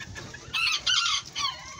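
A young rooster on a ranch gives a few short, close clucking calls in quick succession, fairly clear against a faint low background.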